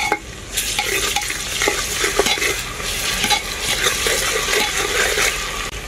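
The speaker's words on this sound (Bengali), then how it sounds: "পেঁয়াজটাকে আমি খুব ভালো করে ভেজে নিয়েছি। এখন এর মধ্যে দিয়ে দেব রসুন বাটা" Garlic paste sizzles in a pan with well-fried onions while being stirred for a mutton curry. A steady, close frying hiss runs throughout, with scraping stir strokes and no talking.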